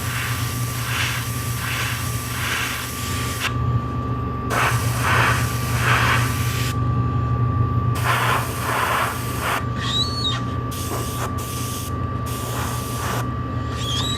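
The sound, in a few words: spray painting coats of yellow on a helmet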